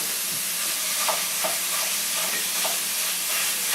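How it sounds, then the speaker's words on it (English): A pound of ground beef browning in a pan for sloppy joes, a loud steady sizzle filling the sound with occasional scraping stirs of the spatula, close and continuous. "Now we're going to add the burger. We want to brown this really good."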